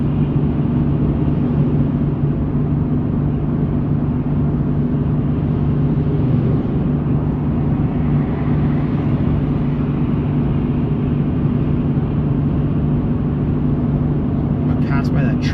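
A GM pickup truck engine holds a steady 3,000 RPM while towing a trailer, a continuous loud drone with road and wind noise and no change in pitch throughout.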